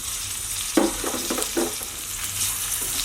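Tomato and onion sautéing in a pan for chutney, a constant close sizzle broken by a short run of stirring scrapes and clatters in the middle, no voices.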